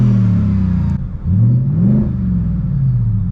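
Loud, close engine note of a 2023 Ford F-150 Raptor R, 700 hp, revved in neutral with the exhaust in Baja mode: a high roar drops off sharply, then rumbles back up through a couple of swelling throttle blips before easing to a throaty idle.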